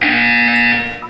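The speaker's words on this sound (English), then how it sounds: "When you hear the buzzer, look up at the ceiling." A single loud electronic buzzer from the video game Portal 2 sounds for about a second, steady and close, then fades.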